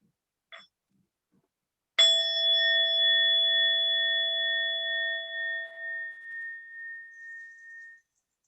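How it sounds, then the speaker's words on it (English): A single meditation bell struck once during a guided body-awareness session, a clear bright ring with steady overtones that sustain and slowly fade over several seconds, alone in near silence after a faint earlier tap. "And we'll have one sound of the bell."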